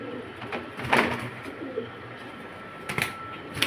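A pigeon coos softly a couple of times at close range, short throaty calls over a faint background with light rustling.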